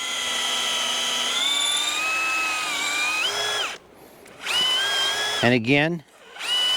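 A power drill bores a tap hole into a maple tree, its motor whining steadily and shifting pitch, then stopping, restarting and winding down in short bursts, with someone speaking briefly near the drill.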